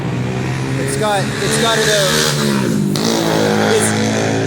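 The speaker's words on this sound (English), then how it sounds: "This is the bus station at Berestagi, and this is Berestagi proper." Loud, dense traffic fills the Berastagi bus station, with engines revving and vehicles passing close by in a constant roar while someone talks over it.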